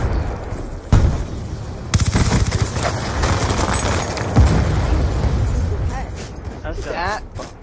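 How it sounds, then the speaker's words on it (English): A missile explodes amid rapid gunfire on the Nuketown 2025 map in Black Ops 2, loud booms and a sustained crackle of shots layered under ongoing talk. "I just watched a missile hit you in the head."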